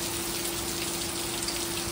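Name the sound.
heavy rain falling outside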